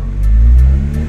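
A Chevrolet Aveo with over 100,000 km revs hard as it accelerates, a loud, steady low engine roar that holds through the whole short burst with no talk over it.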